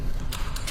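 Metallic clicks and clacks of a gun being reloaded in a horror video game, a few quick mechanical snaps over a steady low rumble of game ambience.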